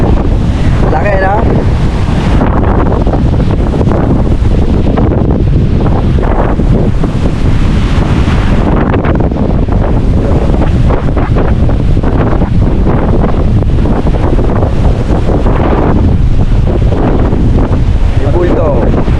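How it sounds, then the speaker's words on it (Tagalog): Strong storm wind roars at sea near a river mouth, buffeting the microphone continuously with heavy gusts, mixed with waves and surf around a boat; rain is falling. "Sobrang lakas na ng hangin."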